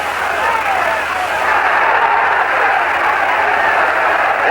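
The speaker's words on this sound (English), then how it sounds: "This crowd is alive." A boxing crowd roars steadily at an outdoor stadium in Puerto Rico during a drenching downpour, a loud, continuous wash of cheering and noise with no distinct breaks, as Alexis Arguello faces Alfredo Escalera.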